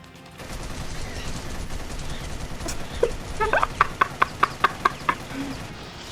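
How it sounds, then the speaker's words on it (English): A rapid burst of evenly spaced sharp gunshots, about eight cracks in quick rhythm, from a burst-fire weapon in the action game Ninja Gaiden II Black, rising over a low steady background hum. "Oh, it's like a burst fire."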